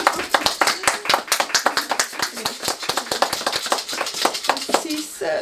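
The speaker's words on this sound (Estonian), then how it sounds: "Aplaus, suurepärane." An audience at an evening salon gathering claps in a quick, dense run of sharp hand claps for several seconds, close and fairly loud, with some voices mixed in.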